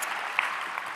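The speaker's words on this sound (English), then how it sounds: "All right, round of applause for" Keynote audience applause at a Cisco Live tech conference in Melbourne, a short steady burst of dense clapping filling the hall with no voices over it.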